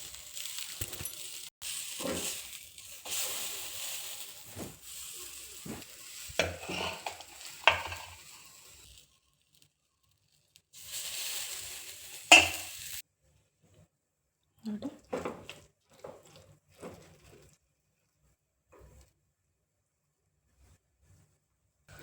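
Masala akki rotti, a rice flour flatbread, cooks on a pan, giving soft sizzling and stirring scrapes. Someone talks over it at the start, then quieter bursts of frying follow near the end.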